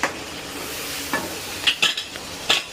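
Curry leaves sizzling in hot oil with ginger garlic paste and turmeric for a prawn pickle, a steady low fry broken by several sharp spatula scrapes and clinks against the pan.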